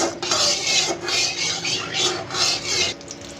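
A spoon is worked around a kadai to spread a small amount of oil, making rhythmic rasping scrapes, about five strokes close up, with no voices.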